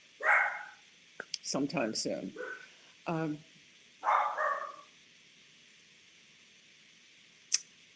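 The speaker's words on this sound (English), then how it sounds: "now she's barking because the dogs are barking outside." Dogs barking outdoors, a few short bursts of barking heard at a modest distance, mixed in with a voice talking nearby.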